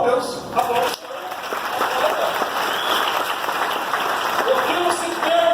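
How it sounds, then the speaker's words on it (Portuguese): A church congregation breaks into applause during a sermon on gratitude, loud clapping rising after a brief pause and continuing with voices and music mixed in over it. "bota a palma a Deus. Aplausos."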